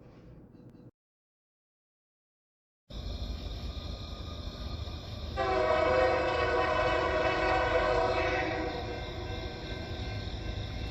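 A BNSF freight train led by an executive-painted MAC locomotive rolls past with a steady heavy roar, then sounds a loud sustained multi-chime horn that holds for several seconds before the rumble carries on alone.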